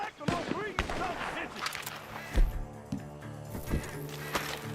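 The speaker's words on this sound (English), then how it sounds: "The gunshots are coming from that barn." Gunshots ring out from a barn in Red Dead Redemption 2, several sharp cracks scattered amid game music and sound effects, with voices talking and shouting over them.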